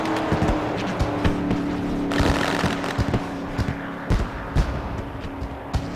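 A race car runs down the back stretch at Daytona International Speedway during a victory lap after a burnout, with a rough engine drone and a string of sharp pops and crackles that carry throughout.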